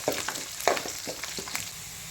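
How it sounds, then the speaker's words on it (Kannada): Curry leaves and garlic fry lightly in oil, a steady soft sizzle with occasional crackling pops and faint stirring clicks, close and moderately quiet with no voices. "ಈಗ ಇದೆಲ್ಲ ಒಂದು ಸ್ವಲ್ಪ ಲೈಟಾಗಿ ಫ್ರೈ ಮಾಡ್ಕೋಬೇಕು."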